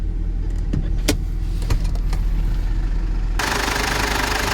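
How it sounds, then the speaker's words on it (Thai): A steady, low Ford pickup truck engine idling close by, a smooth continuous rumble with a few faint clicks, then a broader hiss rising in the final second. "ในส่วนของเครื่องยนต์นะ ก็นิ่งๆ แบบนี้นะครับ"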